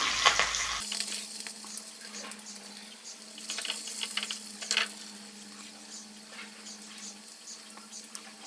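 Small shallots and curry leaves stirred in hot oil with popped mustard seeds for a coconut-milk chicken curry: a steady, close sizzle with intermittent scraping stirs, no talking.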